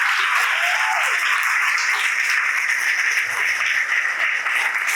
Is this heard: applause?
yes